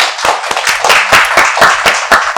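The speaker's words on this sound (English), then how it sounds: "Can we have a round of applause for me?" A studio audience bursts into loud, dense applause mixed with sharp individual claps and a few whoops, sustained throughout without any talk.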